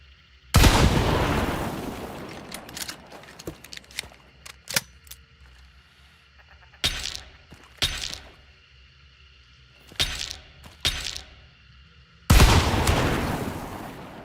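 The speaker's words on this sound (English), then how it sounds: "So Dragon's Breath is really giving you an opportunity to do something with shotguns at a range." A shotgun loaded with Dragon's Breath ammunition fires several loud, sharp blasts in Hunt: Showdown, spaced irregularly with quiet gaps and lighter clicks between, with a sustained burning roar after the last shot.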